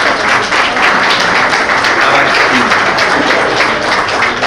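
Conference audience breaking into loud, sustained applause, a thick wash of many hands clapping evenly from start to finish with no voices on top.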